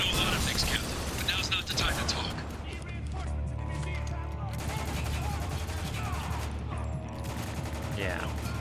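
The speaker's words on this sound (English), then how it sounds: "bullets firing everywhere" Dense gunfire from the shooter game Spec Ops: The Line, with sustained bursts and cracking shots that overlap into a loud, continuous fusillade, with some voices underneath.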